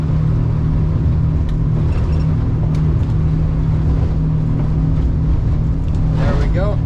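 Outboard motors on a 2007 Weldcraft Ocean King boat, a loud steady droning rumble with a constant low tone, running throughout while being trimmed, with a voice speaking over it.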